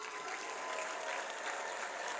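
A congregation claps for God during a church service, a continuous faint wash of many hands clapping together, steady and distant-sounding with no voices over it.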